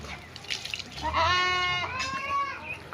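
A calf gives a drawn-out, wavering bleat-like call lasting under a second, fairly close, followed by a shorter cry amid faint background sounds.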